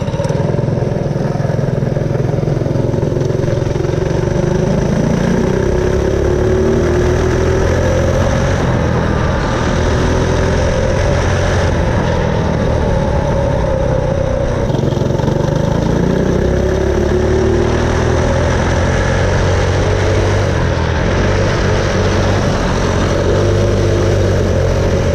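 Loud, continuous engine roar from a vehicle fitted with a 22mm GPS carburetor on a top speed run, the pitch holding high and wavering slightly as it revs hard for the full stretch, close and unbroken.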